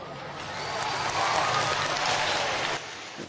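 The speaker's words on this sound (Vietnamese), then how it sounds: "Vỗ tay đó." An indoor church audience applauds during a bishop's homily, a dense, steady wash of clapping that swells slightly and then cuts off near the end.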